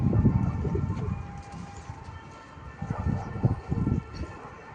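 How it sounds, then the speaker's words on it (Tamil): A pure white pigeon coos in low, throaty pulses, several bursts of repeated cooing close by with brief pauses between them. "இது வந்து அதுக்கு ஜதை பண்ண புறா."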